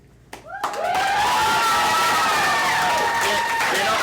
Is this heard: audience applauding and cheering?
yes